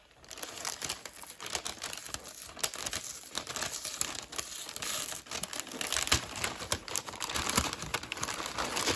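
A plastic bag holding planner inserts crinkles and rustles close up in irregular bursts, with sharp crackles scattered through a busy handling noise and no voices.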